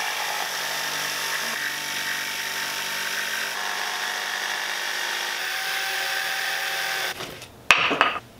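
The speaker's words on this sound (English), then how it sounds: "We can use a jigsaw to cut this section out." A jigsaw cuts a section out of wood for a campfire chair, a steady high buzzing whine running for about seven seconds before the cut stops with a few clunks and knocks.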